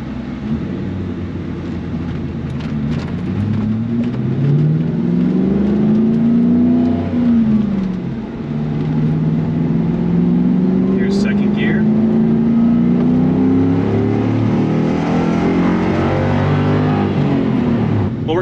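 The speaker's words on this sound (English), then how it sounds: "So this is a higher revving motor compared to the 5-liter." A 1996 Mustang Cobra engine revs up and down while driving, its pitch climbing and falling in long sweeps. The drone is loud, close and steady for the whole stretch.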